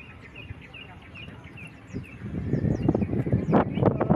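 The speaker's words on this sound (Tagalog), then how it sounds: "Relax yung huni ng ibon." Small birds chirp faintly in the background while a rustling, shuffling noise builds up nearby and grows louder toward the end.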